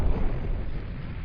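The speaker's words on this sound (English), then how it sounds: "we can manipulate the scene to include explosions with fire using volcano explosion" A volcanic eruption explosion sound effect: a continuous, loud, deep rumbling roar with heavy low-end booming that holds steady for its whole short length, with no voices.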